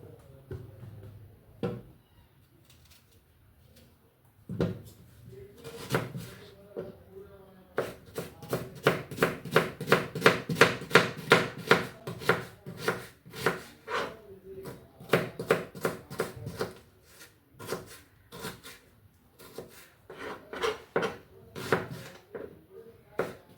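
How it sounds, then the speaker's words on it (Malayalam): Raw chicken being chopped with a knife on a board in a home kitchen: bursts of quick, rhythmic, knocking chops, densest through the middle, separated by pauses with occasional clatter. "എന്നാ നന്നായിട്ട് നേരിട്ട് അരിഞ്ഞെടുക്കാം."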